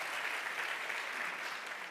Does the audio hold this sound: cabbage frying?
no